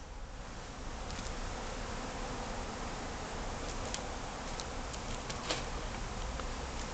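Bees swarm around a newly installed hive, a steady close buzzing drone that continues throughout with a few brief louder passes near the microphone.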